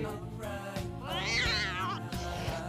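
Cats meow in a drawn-out, wavering call rising and falling over a couple of seconds, close by, over a steady background hum.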